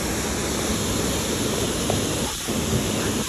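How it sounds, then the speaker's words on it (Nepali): A waterfall near a hillside power house roars in a steady, dense wash of rushing water, loud and unbroken with no voices. "त्यहाँ वाटरफल पनि देख्न सक्नुहुन्छ"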